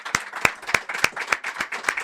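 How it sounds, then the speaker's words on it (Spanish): Studio audience at a Spanish-language TV current-affairs show applauds a guest, sharp, fairly sparse hand claps in an irregular rhythm, moderately loud and close, with no talk over them. "Un aplauso para Pablo"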